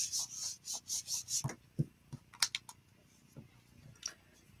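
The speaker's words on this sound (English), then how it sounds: "I have my Stampendable from LDRS to rub over to get a good impression." A Stampendable tool rubbed back and forth over a Spotlight stencil in a closed stamping platform, about seven quick rhythmic scrapes, then scattered soft taps and clicks, close but quiet.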